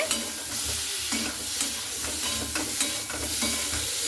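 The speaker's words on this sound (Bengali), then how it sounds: "এরপরে খুব ভালো করে এগুলোকে দিয়ে একটু নাড়াচাড়া করে নিচ্ছি।" Cubed potatoes stirred in a hot pan with turmeric and Kashmiri chili powder. A spoon scrapes and knocks against the pan over a steady sizzle of frying oil, with no voices.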